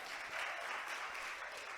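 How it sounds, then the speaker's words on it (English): Audience applause at a youth-led panel discussion session, a steady dense wash of clapping sustained throughout at moderate, even loudness with no talk over it. "So another round of applause for them"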